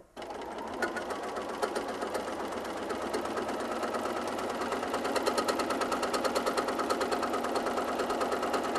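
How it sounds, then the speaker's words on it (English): A sewing machine runs steadily, stitching a straight line with a fast, even mechanical chatter that builds slightly in loudness, heard up close with no talking. "I'll just sew my first line"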